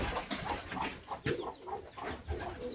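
Chickens cluck in short bursts over busy outdoor background noise, moderately near, while pigeons and cows are being fed.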